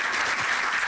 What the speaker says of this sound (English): Let's give Tony a round of applause.